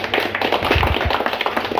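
Brief burst of close, dense clapping as a small political gathering welcomes new members into the party, steady hand claps with a few louder thuds throughout.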